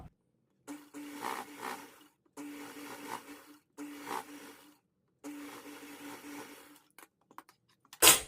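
Sewing machine stitching the hem of a blouse, running in four separate bursts of steady whirring with short pauses between, close and clear with no talk.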